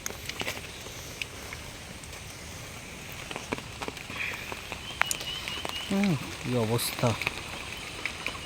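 Steady rain falling during a cyclone storm, a faint continuous patter with occasional drips and knocks, and people talking briefly near the end.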